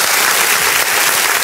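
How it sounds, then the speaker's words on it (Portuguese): A short burst of loud, dense audience applause, close and steady, with many hands clapping at once and no voices. "Uma salva de palmas, sensacional."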